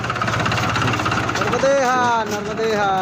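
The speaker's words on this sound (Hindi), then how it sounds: "ये छोटा ट्रैक्टर और उसमें बैठी सवारी है" A small tractor carrying seated passengers on a village road in Haripura, India, runs with a steady low engine chug, loud and close, while people talk over it.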